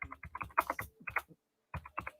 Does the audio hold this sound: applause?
no